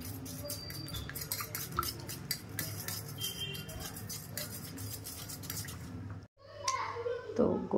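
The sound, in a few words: stirring condensed milk into pitha batter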